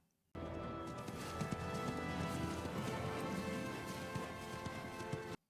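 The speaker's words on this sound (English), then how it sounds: "Spooked my horse." Horse hooves clip-clop in a quick, steady rhythm, loud and close, over a dense mix of background sound that starts abruptly and cuts off at the end.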